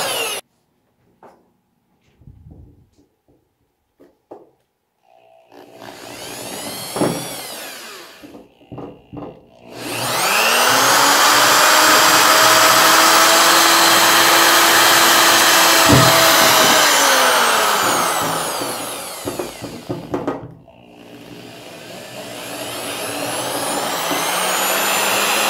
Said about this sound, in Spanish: voy a usar un taladro con una barrena para hacer la marca donde van a quedar